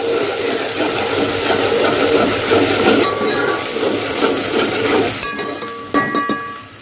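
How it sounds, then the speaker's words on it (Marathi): Onion frying in a pan after garlic, for a spicy chicken curry: a loud, close, continuous sizzle with stirring scrapes, easing toward the end as a few metallic clinks of the utensil ring out. "त्यानंतर लगेच आपल्याला कांदा घालायचा आहे तेही छान असं फ्राय करून घेऊया"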